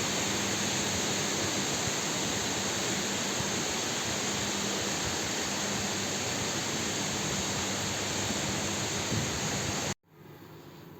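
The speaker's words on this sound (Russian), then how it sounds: "шум воды в любом случае приятно" Dense, steady roar of a waterfall fills the clip without pause at Niška Banja, Serbia, then drops abruptly to a quieter background hiss near the end.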